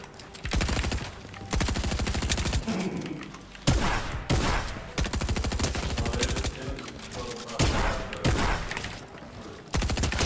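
Bursts of gunfire in Fortnite, rapid repeated shots in dense volleys with brief pauses between them, loud and close, with game music underneath and no talking.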